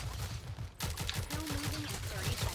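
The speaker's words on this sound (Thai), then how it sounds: "โอ้มันยิงแบบทะลุมาถึงนี่ได้ไงวะ" Rapid gunfire rips through cover in the Rogue Company game, with a quick run of sharp, evenly spaced shots after a brief lull, heard at moderate volume with a voice speaking.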